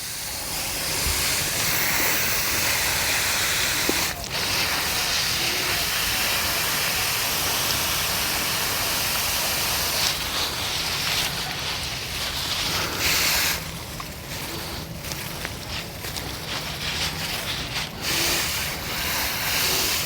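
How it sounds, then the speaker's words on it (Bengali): Water is poured into potted plants growing in fabric grow bags and drains out through the bottom, giving a dense, steady rushing splash that is loud and close, thinning into broken trickles partway through, with no voices. "টপটির মধ্যে জল দিয়ে দিচ্ছি একদম ভরপুর জল দেখুন কিভাবে জল বেরিয়ে যাচ্ছে"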